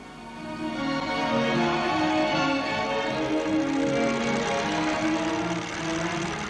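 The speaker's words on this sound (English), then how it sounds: "Animated photographs shown on a hand-operated projector similar to this one, which generates its own electricity for illumination." Hand-cranked film projector that generates its own electricity for its lamp, running with a steady whirring, clattering mechanical drone, loud and continuous throughout with no voices.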